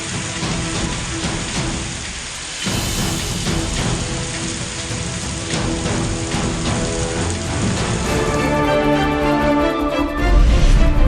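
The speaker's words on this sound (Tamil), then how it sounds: "கொட்டி தீர்த்த கனமழையால் வெள்ளக்காடான தெற்கு தாய்லாந்து." Heavy rain pouring down during flooding in southern Thailand, a loud, continuous dense roar of falling water with no talk.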